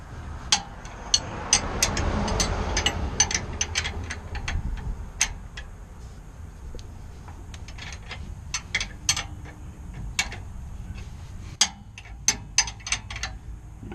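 Bolts on a Toyota Tundra being tightened down by hand with a ratchet wrench, half a turn at a time, giving quick bursts of close, sharp ratcheting clicks with short pauses between them.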